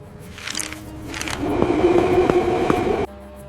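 Train moving through an underground station in Japan, a steady rumbling roar building after a quieter start, with rhythmic rail clatter and a brief screech, then cutting off abruptly near the end.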